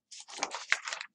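Several quick, close key clicks come from a computer keyboard while numbers are typed into SolidWorks CAD software, a short cluster of taps with no talking.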